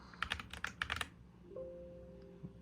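Close, clacky keystrokes on a keyboard fitted with Cerakey ceramic keycaps, some vinyl-wrapped, come in a quick run of about ten presses and then stop, leaving a faint electronic hum.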